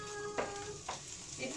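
Green peppers frying in hot oil in a pan, a soft steady sizzle with a few brief clatters of a utensil, heard close and fairly quiet.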